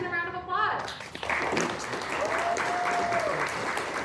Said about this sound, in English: Let's give Martin a round of applause